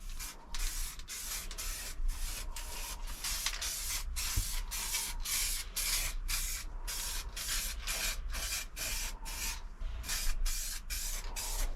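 Spray paint going onto a car panel in a home setting as a light coat, delivered in a long run of short, even hissing bursts at a steady rhythm, close and fairly quiet, with no talking.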